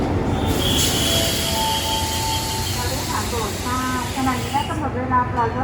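A passenger train from Chumphor pulls into platform one at a Thai railway station, with steady rolling rumble, hissing brakes and high wheel squeals fading as it slows, while someone talks over it.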